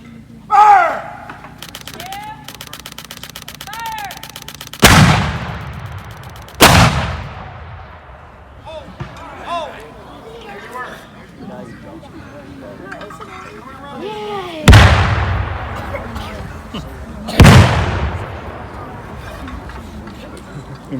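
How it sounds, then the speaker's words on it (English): Continental Army artillery guns at a Battle of Camden reenactment boom in four heavy, widely spaced blasts that ring out and decay slowly, with a spoken command and crowd voices in between. "These are Continental Army artillery guns."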